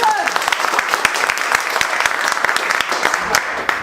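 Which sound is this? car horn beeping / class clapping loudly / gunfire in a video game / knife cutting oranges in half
class clapping loudly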